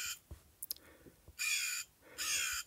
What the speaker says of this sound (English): I'm guessing crow or raven, because that's kind of Halloweenish and spooky.